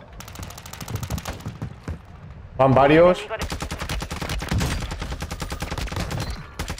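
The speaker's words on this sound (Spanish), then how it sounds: "Vale, por aquí también hay tiros, ¿eh?" Gunfire in a video game battle: rapid bursts of automatic weapon shots crackling almost continuously, with players talking over the fighting.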